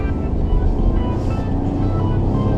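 Steady engine and road rumble inside a moving 2018 Ford F-150 pickup truck, a low continuous drone that swells slightly as it accelerates.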